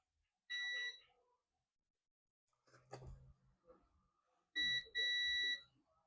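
Shrill electronic beeps from a shorted capacitor on a Dell Latitude E5250 laptop logic board: one short beep, a pause with faint handling noise, then two beeps in quick succession, close and distinct.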